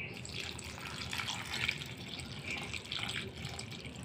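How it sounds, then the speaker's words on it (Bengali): Water being poured into a frying pan of chilies on the stove, a steady close splashing and trickling stream with a few brighter splashes, without talk. "এখন মরিচগুলো ফ্রাই প্যানে ঢেলে আমি পরিমাণ মতন পানি"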